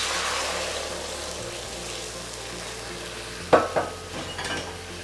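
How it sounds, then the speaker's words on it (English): Sweet and sour sauce poured into caramelized golden-brown sugar in a pan, producing a steady sizzle with a sharper burst of bubbling and stirring clatter partway through. "once your sugar is nice and golden brown, put in the sauce."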